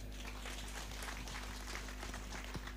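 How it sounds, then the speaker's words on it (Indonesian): A congregation at a routine Islamic study gathering with Gus Imm and Perahu Kanjeng claps, faint and distant, the scattered patter of hands sitting under a steady electrical hum. "Tepuk tangan."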